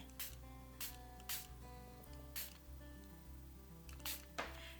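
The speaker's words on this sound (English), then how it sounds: "I'm going to get my water bottle, my spritzer bottle, and just spritz over the top of that" A spritzer bottle sprays water over colours on card in six short, crisp hissing bursts at uneven intervals, close by, over a faint steady background hum.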